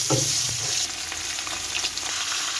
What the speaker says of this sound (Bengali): মাথাগুলো ভেজে নিচ্ছি পুঁই শাকে দেবো বলে